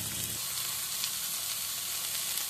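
Onion shallow frying in a pan while being stirred, a steady dense sizzle throughout with faint scraping, close by and without any voices.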